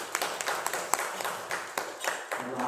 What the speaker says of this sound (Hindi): सुनीता बहन के लिए भी ताली दो।